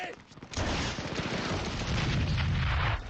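Dense battle gunfire from a WWII Pacific war drama at the Peleliu airfield: a sustained fusillade of rapid shots and heavy booms, loud and continuous after a brief quieter start.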